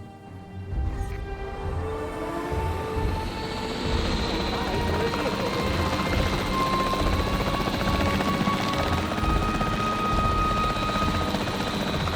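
Capture team helicopter in the video game Jurassic World Evolution 3, a steady rotor drone that starts after a brief pause and holds loud and continuous throughout, with a voice talking over it.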